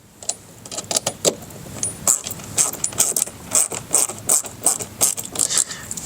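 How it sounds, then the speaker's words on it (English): A screw being driven into a plastic mud flap clip while installing Rokblokz mud flaps on a 2024 Chevrolet Colorado ZR2 Bison: close, repeated rhythmic clicking and scraping bursts, no talk. "and screw that into the clip"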